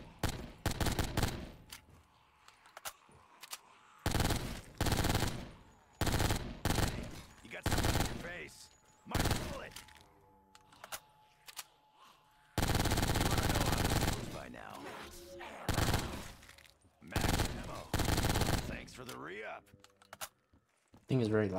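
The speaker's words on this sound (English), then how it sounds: "I try not to talk when I'm shooting guns." Gunfire in Black Ops 3 Zombies, repeated loud bursts of automatic fire in short and long volleys with gaps between, one sustained stretch of rapid shooting, and quieter keyboard clicks and game sounds in the pauses.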